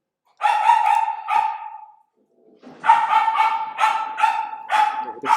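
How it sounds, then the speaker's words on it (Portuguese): Several excited dogs bark in loud, rapid bursts, a cluster of barks, a brief pause, then a longer run of repeated barking close by, with no talk over it. "Eu vou ter que esperar 1 minuto enquanto minhas cachorras ficam animadíssimas."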